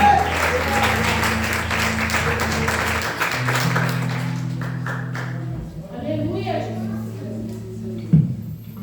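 Church congregation applauding during a Pentecostal campaign service, sustained clapping mixed with sustained musical tones underneath, fading toward the end with a brief loud hit near the close.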